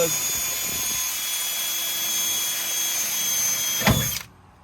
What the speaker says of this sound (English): So I drill a pilot hole first